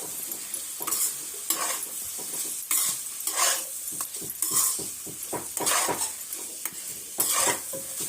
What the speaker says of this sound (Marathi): आता आपल्याला हे कारले घालून ह्यात परतून घ्यायचं